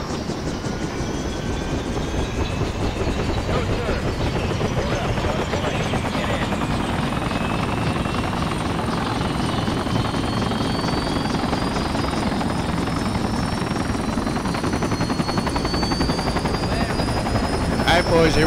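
Helicopter in the video game Project Reality, a continuous close rotor thump with a rising turbine whine throughout, while voices talk over it.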